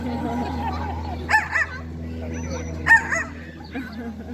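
A bird imitates a dog's bark with two short, yappy bursts over a low steady hum, while someone speaks in between.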